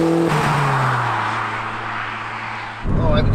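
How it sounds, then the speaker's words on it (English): A Porsche 944 Turbo pulls hard under full throttle, its loud, steady engine drone dominating throughout and swelling into a rougher, louder rush near the end. "when you stomp on that throttle, it really goes, this thing."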